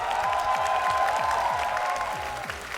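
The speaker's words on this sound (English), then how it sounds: "give yourself a round of applause" A tournament audience at the COE 2023 one-versus-one gaming grand final applauds steadily, a dense wash of clapping heard throughout the clip and tapering slightly toward the end.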